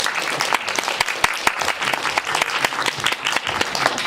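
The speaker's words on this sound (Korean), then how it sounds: "크게 박수 드리면서 이 시간 마치도록 하겠습니다" A film festival audience in Busan claps after a guest talk for the film Sibel, a dense patter of hands with sharp individual claps standing out, continuous and fairly close.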